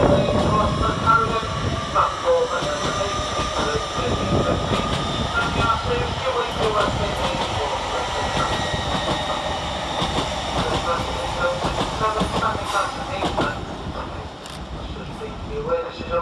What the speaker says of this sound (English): we see 800-225 depart 9 minutes late, working the 13:11 LNER service from London King's Cross to Edinburgh Waverley